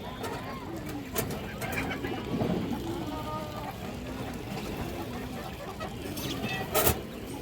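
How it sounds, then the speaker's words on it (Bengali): A domestic pigeon coos in soft, repeated rolling calls, close and quiet, with other birdsong and faint sounds around it. "এই দেখেন নোটা ডাকতেছে"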